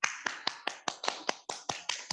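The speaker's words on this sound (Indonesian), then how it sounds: "Berikan tepuk tangan buat Martin." A small group of students claps for a classmate after a class presentation, about a dozen sharp, close claps in a steady, quick rhythm with no voices over them.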